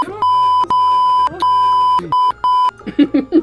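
A series of loud, sharp censor beeps, about six tones of varying length, is cut in over speech, with a voice resuming briefly after them.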